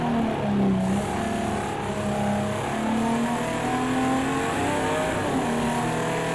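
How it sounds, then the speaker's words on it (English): Vintage Ferrari race car at Daytona screams at high revs, its engine pitch climbing and stepping through gear changes, loud and sustained with a hint of tyre noise. "this Ferrari just screaming."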